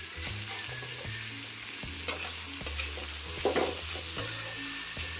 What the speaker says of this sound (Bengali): পেঁয়াজটাকেও আমি এবার সুন্দর ব্রাউন করে ভেজে নেব।